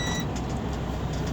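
A truck's diesel engine is turned over with the key while the clutch is held in. A short, steady, close mechanical rumble fills the whole moment.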